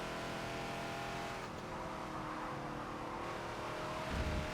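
A Ford Falcon XB racing around the Maple Valley circuit in Forza, the engine droning steadily at high revs with faint tire noise and a brief surge near the end, no talk.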